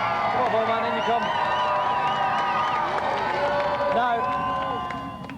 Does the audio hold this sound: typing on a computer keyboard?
no